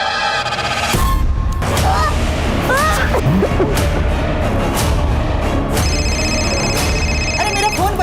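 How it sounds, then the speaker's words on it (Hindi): A telephone ringtone trills in repeated electronic bursts against a busy indoor background of people talking at a Holi gathering, with squawking honks mixed in. "अरे मेरा फोन बज रहा है"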